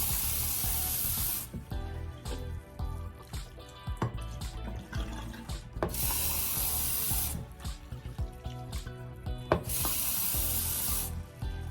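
Hot water poured and sprayed over tie-dye fabric, coming in several loud hissing gushes separated by quieter splashing, dripping and rubbing, all close up with no voices.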